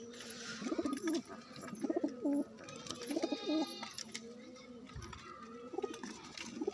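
Domestic pigeons in their loft coo close by, with repeated deep rolling phrases in short bursts and pauses between them. A softer, higher bird call appears in the middle, along with a brief low bump near the end.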